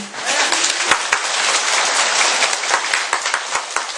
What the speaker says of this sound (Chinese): 好听，拍拍手。